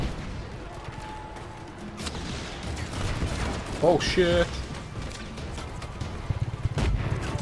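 Gunfire and explosive bursts in the open-world action game Just Cause 3, with a sharp burst cluster midway over constant game ambience, while someone talks and exclaims over it.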